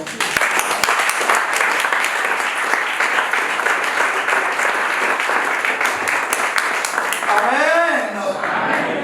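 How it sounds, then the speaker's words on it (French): A church congregation applauds and acclaims during a French-language service, with dense, steady clapping filling the whole stretch and a raised voice rising over the crowd near the end. "Est-ce que je peux attendre vos acclamations?"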